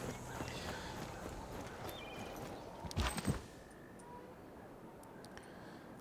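Horse hooves clip-clop in the strategy game Civilization VI, a quiet, rapid run of hoofbeats under the game's background sounds, with a brief louder clatter near the middle before it thins out.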